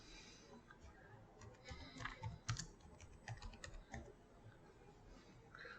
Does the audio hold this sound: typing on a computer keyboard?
yes